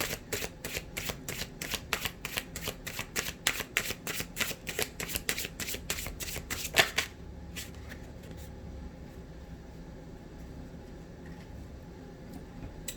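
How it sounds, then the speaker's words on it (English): Spirit of the North divination cards riffled and shuffled in quick, crisp bursts at close range for about seven seconds, then near quiet with only a few faint handling taps; no talking. "I'm gonna pull one card from the Spirit of the North divination deck for this one"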